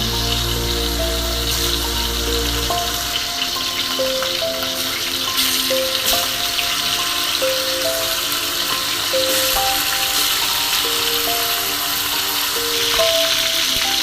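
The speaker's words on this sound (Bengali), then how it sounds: "তেল খান গরম হয়ে গেলে প্রথমে মাংস আস্তে আস্তে সুন্দর করে ছাড়ি দিব।" Chicken meat sizzles and crackles in hot oil in a pan, a steady close frying hiss that runs the whole time with light music playing over it.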